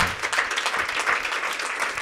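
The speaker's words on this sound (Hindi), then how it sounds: "अपने यीशु मसीह को तालियों से वेलकम करें।" Congregation at a Hindi-language Christian worship service applauding steadily, a dense wash of many hands clapping close by with no voices over it.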